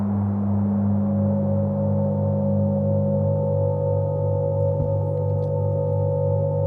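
FM synthesis patch played in Ableton Live holds a steady electronic drone of sustained pure tones, one upper tone dropping out partway through, with a faint click near the end and no voices.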